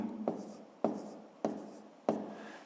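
Four separate scratchy pen strokes on paper, each a crisp attack that fades quickly, spaced at a steady rhythm and heard up close with no talking.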